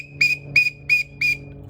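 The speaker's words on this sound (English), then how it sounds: "5 whistles or more in rapid succession, that is cause for concern" A referee-style whistle at an archery range gives four short, shrill, evenly spaced blasts, loud and close with nothing else around them.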